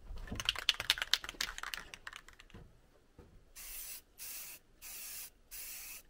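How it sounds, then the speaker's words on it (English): Spray gun bursts misting paint onto refurbished used windows for an off-grid tiny cabin build: after some quiet handling clatter, four steady hissing sprays of about half a second to a second each, close and fairly loud, separated by short pauses. "let's go ahead and spray the last part of it the best I can"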